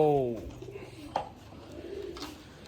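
A pigeon gives a brief, low coo over soft background noise, followed by faint rustling.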